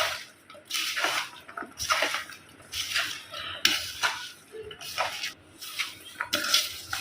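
Salt is rubbed by hand into cut bitter gourd pieces in a metal pot. Close, rhythmic bursts of wet scraping and rubbing repeat about every second, with light clinks against the pot.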